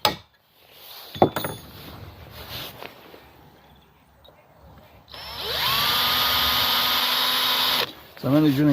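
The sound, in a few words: drilling shallow hole in Yamaha QT50 engine part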